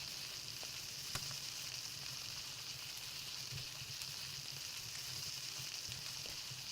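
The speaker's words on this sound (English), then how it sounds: "let's cook up some berries in a frying pan." Berries fry in a pan in the video game Palworld, giving a faint, even hiss of sizzling that runs continuously with a few soft clicks and no voices.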